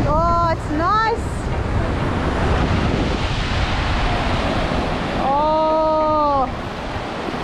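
Ocean surf at a beach gives a steady broadband wash throughout, with voices speaking briefly at the start and again near the end over the waves.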